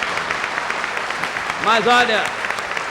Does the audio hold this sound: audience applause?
yes